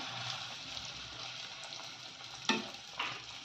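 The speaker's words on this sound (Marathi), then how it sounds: "आता मी सगळ्या पाणीपुरी तळून घेते" Pani puri dough rounds deep-fry in hot oil, a soft steady bubbling hiss close by, with a couple of sharper clatters near the end and no talking.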